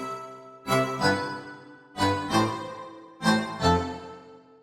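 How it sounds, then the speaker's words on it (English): Serum wavetable lead preset with a staccato violin character plays three pairs of short, plucky, bright chord hits, each pair separated by a brief gap, dry and alone with no voices. "And this one, yeah, it sounds like a staccato violin"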